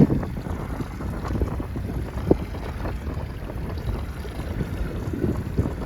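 A 29er racing dinghy sails in strong wind while coming into a race finish, with heavy wind buffeting the microphone and a continuous rush of water along the hull, loud and close, with no voices.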